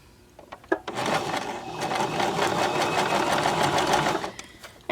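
A Baby Lock Zest sewing machine stitches through fabric in a steady, loud mechanical whir that runs for about four seconds, with a few clicks before it starts and after it stops.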